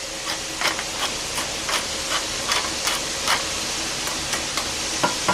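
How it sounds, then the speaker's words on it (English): A spoon stirs beef stew ingredients in a pot, making steady rhythmic scraping strokes over a constant soft sizzling hiss, close and moderately loud. "I'm going to stir these things in there."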